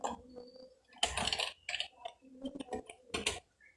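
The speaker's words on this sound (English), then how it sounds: "now I am typing tutorial" Computer keyboard typing while entering text in a Microsoft Word document, heard as irregular clusters of quick, close clicks with short pauses between bursts.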